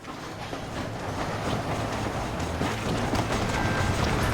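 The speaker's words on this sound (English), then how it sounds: "The train is getting away!" A moving train in the Red Dead Redemption video game rumbles along with steady clattering wheels and mechanical rattle, a continuous, moderately loud rolling noise that builds slightly.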